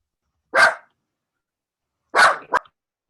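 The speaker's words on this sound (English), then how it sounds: "I don't even know what she's barking at." A dog barks sharply once, pauses, then gives two more quick barks, close by, with silence in between.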